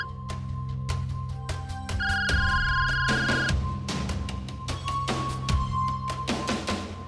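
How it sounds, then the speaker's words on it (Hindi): A phone rings in a TV crime drama scene: a single sustained electronic ringing tone partway through, set against low background sounds and clicks. "अरे आपका फोन बज रहा है।"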